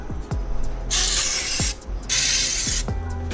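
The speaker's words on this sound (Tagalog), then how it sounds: "kumuha tayo ng chain cleaner, then spray natin dito sa towel natin." Chain cleaner sprays onto a towel during a motorcycle chain change in two long, loud hissing bursts, each bracketed by short clicks and rattles of the can and handling.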